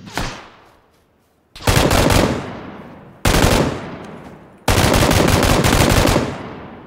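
Machine gun fire in a video game: loud sustained bursts, the first short and fading, then three long near rattling volleys each cutting in sharply and tailing off, with no talk over them.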